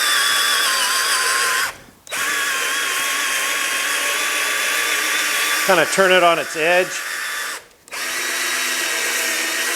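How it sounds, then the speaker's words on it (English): A power drill spinning a scuff pad on a GTO's front fenders whirs steadily under a spoken remark, cutting out briefly twice, with a short stuttering burst of a voice partway through. "or I'll just use a drill."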